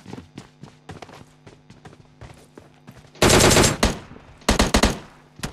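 Bursts of automatic gunfire in the mobile shooter PUBG Mobile Lite, starting as scattered sharp shots with footstep-like taps, then a loud sustained volley and a couple of rapid follow-up bursts, close and punchy.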